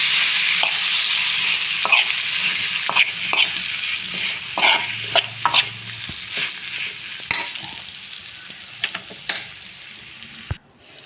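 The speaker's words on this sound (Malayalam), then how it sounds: "ആ തൊലി അതും കൂടി ചേർത്ത് ഒന്ന് ഇളക്കി സ്റ്റൗ ഓഫ് ചെയ്യാം" Continuous sizzling of vegetable peels frying in a pan, with repeated scraping and clinking as they are stirred, fairly close and steady throughout.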